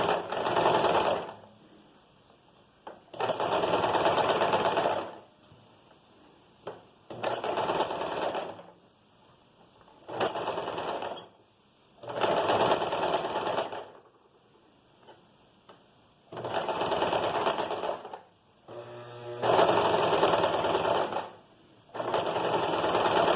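Sewing machine topstitching pleated skirt fabric, running in loud steady bursts of rapid stitching separated by short pauses, close and alone with no voices.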